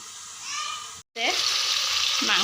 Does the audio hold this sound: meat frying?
yes